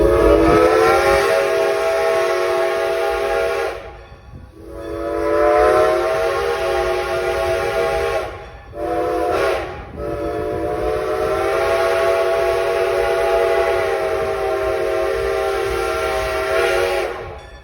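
A Strasburg Railroad steam train blows its whistle in long, loud sustained blasts with brief breaks between them, over the steady rumble of the moving train.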